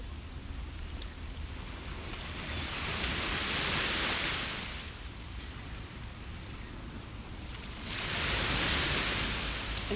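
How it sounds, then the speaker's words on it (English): Ocean waves roll onto a beach close by, each surge swelling into a broad hiss and fading back, with two distinct wash-ups over steady surf noise and no voices. "I think you'll hear the water better this close."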